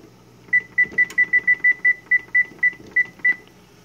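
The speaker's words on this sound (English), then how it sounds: "We'll get the timer cranking." A kitchen timer set while eggs are put on to boil gives a quick run of about a dozen short, sharp, evenly pitched beeps in an irregular rhythm, loud and close.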